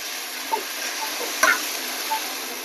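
Puree of blended tomatoes simmers in an Andhra-style tempering for country chicken curry, a steady soft sizzle and bubbling hiss with a few clear spoon clinks and scrapes as it is stirred.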